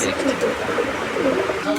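Pigeons coo at a Bangladeshi pigeon market stall among fancy breeds, soft repeated low coos rising and falling against a busy, crowded background.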